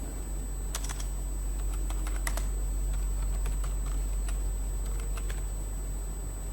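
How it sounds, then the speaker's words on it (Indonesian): Fingers type on a computer keyboard during a database tutorial, giving a run of crisp, close key clicks in irregular bursts over a steady background hum. "Kita ketikkan create"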